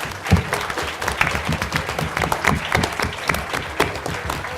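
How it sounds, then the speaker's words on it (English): Applause from an audience at the Cardinal Challenge 2018 competition, a dense run of many hands clapping at close range, steady and loud throughout without any voices. "Let's go ahead and give them a round of applause, everybody."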